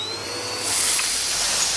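Hot subs sizzling on a flat-top grill at a Jersey Mike's sub shop, a steady hissing sizzle that swells louder partway through and holds close and continuous with no talking.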